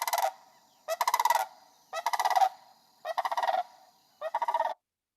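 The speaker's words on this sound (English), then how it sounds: "Here's the calls of the sandhill crane." Five rolling, trumpeting bird calls of a sandhill crane, evenly spaced bursts of rattling notes separated by short silences, clear and fairly close.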